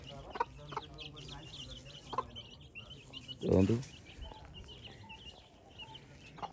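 Chickens and young chicks cluck and peep close by in a steady scatter of calls, with one louder burst partway through, while a person talks briefly.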